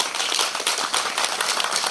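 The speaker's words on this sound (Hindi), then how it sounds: "एक बार जोरदार ताली बजा दें।" A dense burst of audience clapping at a kavi sammelan poetry recital in a Sai temple courtyard in Katghora, Korba, Chhattisgarh; many hands patter steadily and loudly for about two seconds, with no talking.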